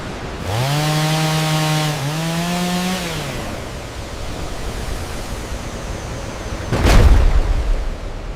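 An industrial chainsaw engine revs in two sustained bursts while cutting down a tree, then gives way to steady rushing noise and a loud crackling crash near the end.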